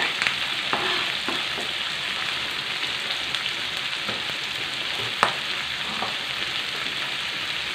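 Bird's eye chilies sizzle and crackle in hot oil in a wok, a dense, steady frying hiss with occasional sharp pops and stirring scrapes, no voices.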